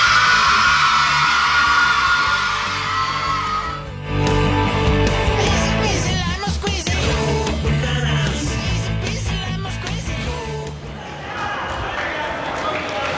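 A loud crowd cheers and yells continuously at a basketball playoff game, with shouts and whoops swelling and dipping, voices mixed into the roar.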